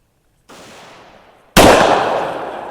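A 350 Legend rifle fires a Winchester Copper Impact bullet outdoors at night: a single loud, sharp report with a long fading tail, preceded by a quieter hiss, and no talking.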